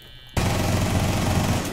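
Loud, continuous automatic gunfire from the video game Rainbow Six Siege bursts in abruptly after a brief quiet moment and sustains as a dense, rapid rattle to the end.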